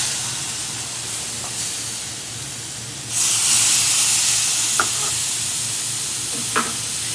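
Milk poured into a pan of roasting suji sets off a sudden loud hiss and sizzle that keeps going, over a quiet background, with a couple of faint clinks from stirring.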